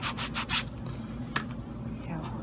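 Light hand sanding of a perler bead craft piece before rhinestones are glued on, a short close rubbing scrape lasting a couple of seconds with a sharp tap partway through.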